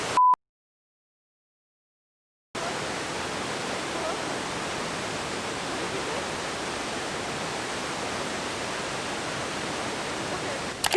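Cascade Falls in Mission, BC pours down in a steady, dense, unbroken roar that holds at even loudness for several seconds, following a short beep and a moment of silence.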